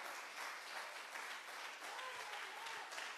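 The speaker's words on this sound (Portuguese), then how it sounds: "pode aplaudir o Senhor" A church congregation at a celebration service applauds continuously, a dense, steady wash of many hands clapping, fairly faint and distant, with no talk over it.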